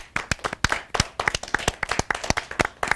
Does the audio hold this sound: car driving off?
no